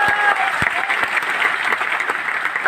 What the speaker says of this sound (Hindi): एक बार तालियां बजा के बता दीजिए।